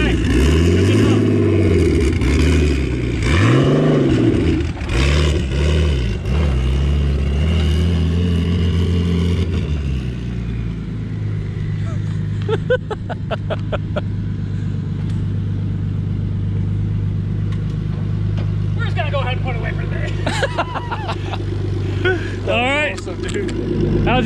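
Go-kart engine revving on a dyno, with loud, close, rising and falling revs for about ten seconds before it settles into a lower steady drone. Scattered clicks and faint voices are heard near the end.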